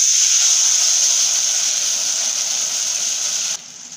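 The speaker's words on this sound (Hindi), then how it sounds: "अब हम पानी डाल देंगे इसमें।" Water poured into a hot tempering of chillies and curry leaves sends up a loud, steady, close sizzling hiss that drops suddenly to a quieter bubbling near the end.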